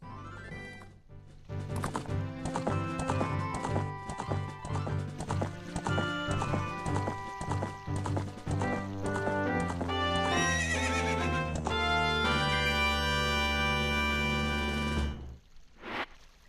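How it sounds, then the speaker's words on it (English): Rapid clip-clopping hoofbeats of the horse Epona gallop across Hyrule Field in Ocarina of Time, over busy game music, with a high whinny rising near the end before the sound stops. "We have a horse now."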